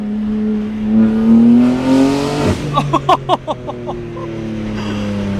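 A BMW G80 accelerates hard, its engine rising in a loud climbing pitch before snapping through a series of rapid, punchy gear-change pops and bursts, then settling into a steady drone, with excited talk over it.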